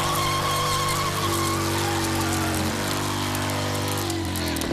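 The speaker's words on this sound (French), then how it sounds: "on mesure la puissance de la moto avec un dynamomètre." A Harley motorcycle runs hard on a dynamometer, its engine a loud, continuous roar with shifting tones, close by and with no talking over it.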